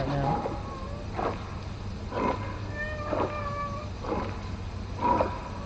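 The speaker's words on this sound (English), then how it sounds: "I know I have a loud cat and I do apologize." A loud pet cat meows repeatedly, five or six drawn-out calls spaced about a second apart, close and clear over a steady low hum from electronic game sounds.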